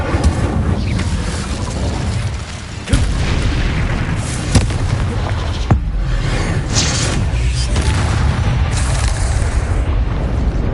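The Incendio fire spell is cast in Hogwarts Legacy on PS5, with loud, dense booming bursts and crackling blasts. Several sharp impacts punctuate a continuous roaring combat din, and there is no speech.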